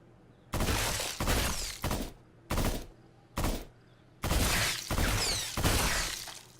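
Three-round-burst gunfire in the Brookhaven Experiment game: eight loud, sharp volleys in quick succession, each a rapid rattle of shots with glassy, shattering tails, separated by brief silences.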